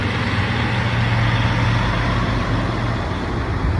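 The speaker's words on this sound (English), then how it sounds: "Let this truck pass real quick." A truck passes close by on a roadway, its engine and tires producing a steady, loud, low rumble that fills the whole stretch with no speech over it.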